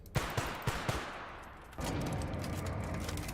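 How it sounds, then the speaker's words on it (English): A pistol in The Outer Worlds fires four spaced, punchy shots, each sharp and close, followed by a denser, continuous rattle of gunfire and noise. "That's a beefy little pistol."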